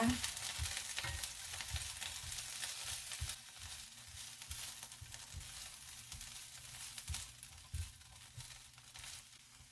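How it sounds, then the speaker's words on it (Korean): Sliced red chili and minari stir-fry in two spoonfuls of oil in a frying pan, a steady close sizzle with rhythmic scraping and stirring strokes from a spatula, no voices. "프라이팬에 오일 두 스푼 둘러주시고요. 아까 썰어 놓았던 홍고추와 미나를 넣어서 잘 볶아줍니다."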